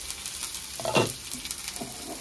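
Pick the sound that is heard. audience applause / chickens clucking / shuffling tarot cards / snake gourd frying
snake gourd frying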